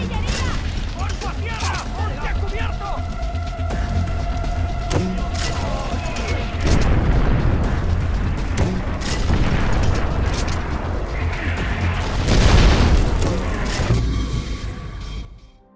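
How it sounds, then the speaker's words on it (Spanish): Heavy artillery booms and explosions in the Far Cry 4 video game, deep rumbling blasts rolling one after another, with the loudest impact near the end, under shouted voices and steady battle noise. "¡Se viene encima la artillería!"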